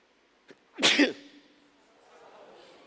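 A man sneezes once, loud and close, a short sharp burst caused by an allergy, during an evening church service, followed by quiet room tone.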